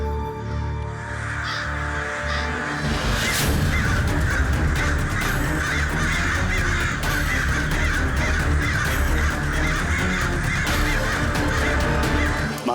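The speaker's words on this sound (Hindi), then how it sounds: "ये कौवे एक ही साथ कहाँ जा रहे हैं?" A flock of crows caws loudly and continuously, many harsh overlapping calls close by, forming a dense unbroken chorus throughout.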